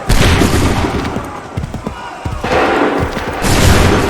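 Musket volleys crash out in the video game Assassin's Creed 3, a dense rolling fusillade of many shots at once that swells loud, thins briefly, then returns in full force, with a voice calling out in between.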